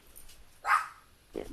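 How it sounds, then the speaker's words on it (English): A single short bark from a small dog sounds partway through, moderately loud and fairly close, followed by a fainter low sound near the end in an otherwise quiet indoor setting. "that's your dog, I hope."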